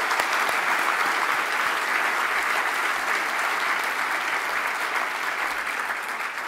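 Audience at a 2015 Celebration of Giving applauds donors, a loud, dense and continuous round of clapping from many people close by, holding steady throughout.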